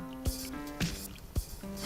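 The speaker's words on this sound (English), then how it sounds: "douse in the luxurious saffron syrup" Saffron syrup poured over small donut-like fried pastries in a dish gives soft wet splashes and squishy drips, a few distinct bursts over a faint background hum.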